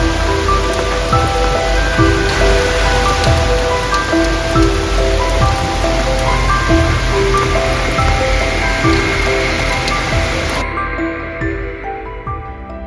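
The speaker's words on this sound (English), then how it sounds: "it continued to rain all night" Steady heavy rain falling on a campsite at Killbear Provincial Park, a dense continuous patter on surfaces, loud and close, easing slightly near the end.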